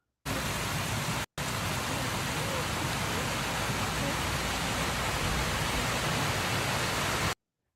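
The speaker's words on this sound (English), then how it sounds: "it's something about the sound of running water." Steady running water, a continuous even rushing wash that starts abruptly, breaks off for a split second, then carries on unchanged at a moderate level before cutting out.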